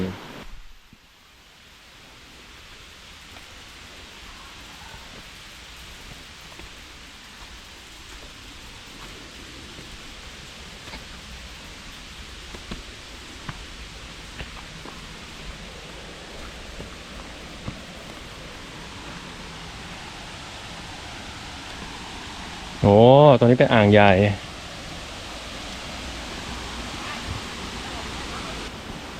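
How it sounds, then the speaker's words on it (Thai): Huai Yang waterfall's third tier pours in a steady, even rush of water throughout, with a voice speaking briefly near the end. "น้ำตกห้วยยาง ชั้นที่สาม"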